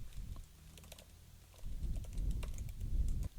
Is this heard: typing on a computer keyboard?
yes